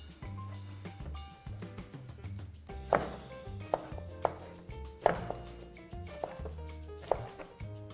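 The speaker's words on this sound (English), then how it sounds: "Now we've got some ginger, garlic, spring onion, and I love chilli." A knife chops ginger, garlic, spring onion and chilli on a board in a chef's kitchen, giving irregular sharp knocks that come louder in several spaced bursts over a soft, steady tonal background.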